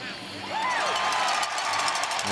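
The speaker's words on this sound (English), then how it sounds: "And you hear the applause in the background, and they confirm it." A baseball stadium crowd at a college game between UCLA and Mississippi State applauds and cheers after an out call at third base, a loud, steady wash of clapping and crowd noise with a voice sliding through the middle.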